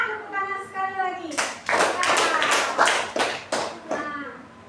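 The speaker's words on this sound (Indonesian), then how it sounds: "Semangat tepuk tangan sekali lagi." A class of schoolchildren claps for a group, several loud rhythmic bursts of hands clapping nearby, with a voice speaking just before and between the claps.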